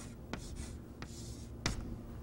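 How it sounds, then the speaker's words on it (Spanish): A pencil writes a word on paper, giving soft scratchy strokes with a few sharper taps as the tip lands, close and quiet with no talking. "Vamos a escribir otro adjetivo aquí."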